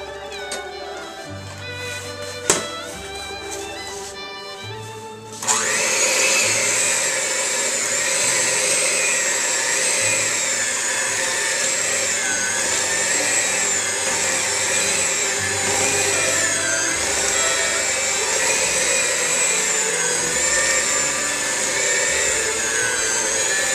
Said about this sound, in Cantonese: 我哋用個攪拌機咧，將佢打勻佢。